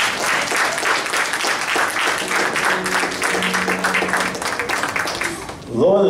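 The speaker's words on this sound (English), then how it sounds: "give a round of applause on Father's Day" Church congregation applauding on Father's Day, a dense and loud round of clapping sustained throughout, with voices mixed in and a speaking voice rising near the end.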